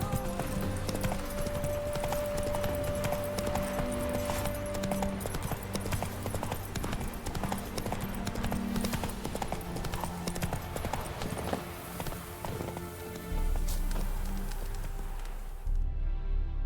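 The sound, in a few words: horse Roach galloping in video game The Witcher 3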